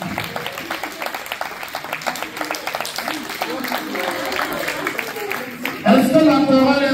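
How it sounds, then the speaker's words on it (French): Audience at a volunteers' party in Val d'Or applauding: sustained crowd clapping mixed with voices and a speaker talking over it, with a louder burst of sound near the end. "Applaudissez très fort pour eux,"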